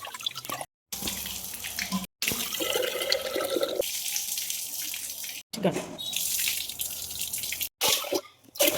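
Rice being washed in water at a kitchen tap while preparing white rice as a festival offering, with running, splashing water in several bursts separated by short pauses.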